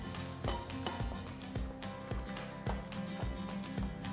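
Clarified butter sizzles steadily in a frying pan, a close, constant frying hiss with light rhythmic taps and stirring clicks and no talking.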